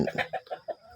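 A short burst of quick, nasal clucks from chickens in a coop nearby, several rapid calls in under a second.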